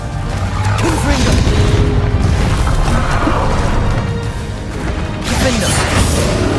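Spell blasts and crashing impacts in a Hogwarts Legacy battle against a dragon, with loud booming bursts and swooshes over constant game score and rumble, one blast near the start and another near the end.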